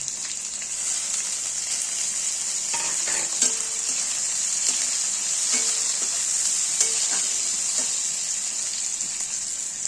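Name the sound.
kasuri methi being stirred and fried in tempering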